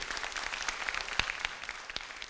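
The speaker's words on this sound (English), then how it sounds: "please give him a warm round of applause to thank him" Scattered applause from a seated audience at a finance summit, moderately quiet and a little distant, individual claps popping out of a thin, uneven patter that stays fairly sparse throughout.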